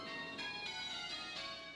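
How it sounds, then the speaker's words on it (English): Church bells ringing at Stella Maris Catholic Church on Sullivan's Island, Charleston, faint and distant, with overlapping tones and repeated soft strikes sounding through the short stretch. "At Stella Maris Catholic Church on Sullivan's Island, bells ring, as they soon will all over the Charleston area."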